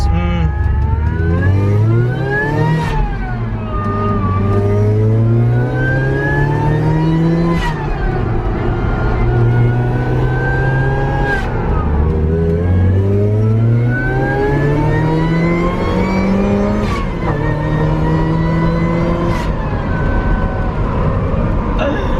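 A turbocharged car engine revs repeatedly under boost, pitch climbing under load then dropping between gear changes, loud and close, with occasional voices over it.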